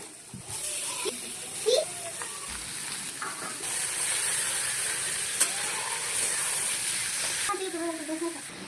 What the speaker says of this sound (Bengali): এইভাবে পেঁয়াজকে ভেজে একদম চিকেনের ভেতরে যে জলটা থাকে সম্পূর্ণ জলটা বার করে দেবো